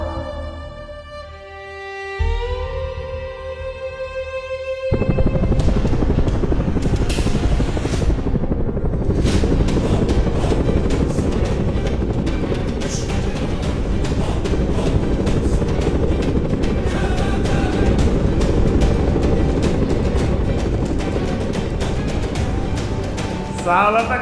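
After a few seconds of sustained tones, an arriving air ambulance helicopter takes over with loud, continuous, close rotor and engine noise that stays steady to the end.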